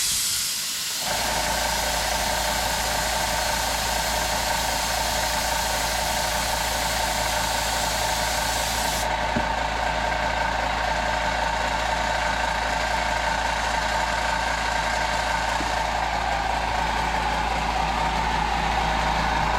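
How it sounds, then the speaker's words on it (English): An air compressor starts abruptly and keeps running with a loud, steady broadband hiss and motor drone, close by and without talk. "Compressor running"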